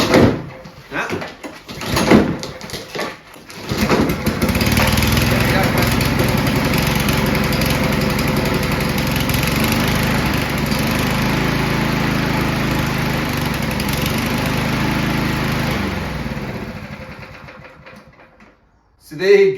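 Lawn mower engine starting by pull cord: a few rough pulls and sputters, then the engine catches and runs with a loud, steady drone, and near the end it dies away.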